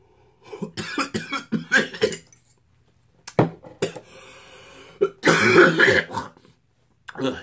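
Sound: coughing after smoking marijuana

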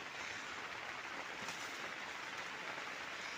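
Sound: rain

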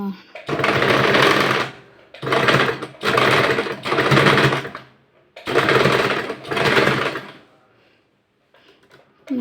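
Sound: sewing machine stitching

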